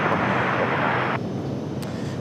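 A Frontier airliner on approach to runway 23 right roars as a broad, steady jet rumble that cuts off abruptly partway through. Faint background noise remains afterward.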